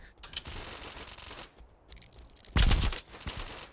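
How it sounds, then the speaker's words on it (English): Arrows fly in quick bursts of rapid-fire double shots in an archery video game, with rattling volleys and one louder thumping burst near the end. "So you got double shot, which is actually, apparently it's just insane rapid fire"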